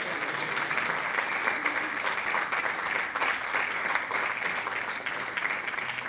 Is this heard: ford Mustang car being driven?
no